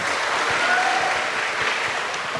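A studio audience applauds on an Indonesian talk show, steady dense clapping throughout, even and sustained with no voices above it.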